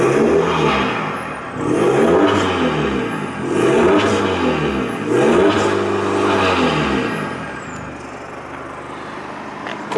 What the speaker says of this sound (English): Just give the engine a rev so you can really hear those exhausts working their magic.